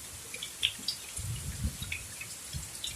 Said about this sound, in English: We thank you for this rain